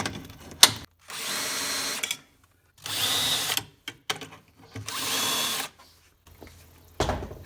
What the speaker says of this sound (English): I'm just going to use one of these center finding drill